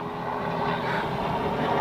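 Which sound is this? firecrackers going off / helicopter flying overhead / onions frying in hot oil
helicopter flying overhead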